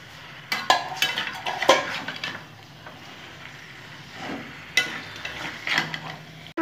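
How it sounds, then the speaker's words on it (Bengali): Already-fried potatoes and garlic being stirred in a pan for a Bengali masala chicken kosa, with scattered scrapes and metallic clinks of a spatula against the pan over a faint background hiss. "ভেজে রাখা আলুগুলো দিয়ে আমি এখন কষিয়ে নেব"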